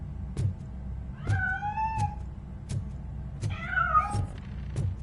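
Two drawn-out cat meows in RoboCop: Rogue City, rising and falling tones, close and clear over a low in-game ambient hum with faint periodic clicks.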